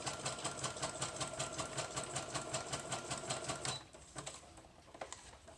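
A sewing machine runs a zigzag stitch through a craft project, its needle hammering in a fast, even rhythm for several seconds before stopping, followed by a few faint handling taps.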